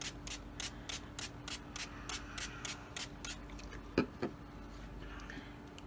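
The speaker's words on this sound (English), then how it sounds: "I need to spray this to soften the cardboard" Water is sprayed onto cardboard to soften it for embossing a paper napkin card front: a quick series of about a dozen short, hissing spray bursts in an even rhythm, close and fairly soft, with no talking.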